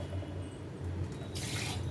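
Water from a kitchen tap or vessel runs steadily and is then poured more forcefully into a pot of whole pointed gourd curry, a close, splashing rush near the end.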